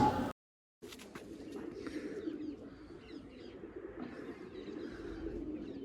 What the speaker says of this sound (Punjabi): ਇਹ ਆਪ ਫੜਿਆ ਕਬੂਤਰ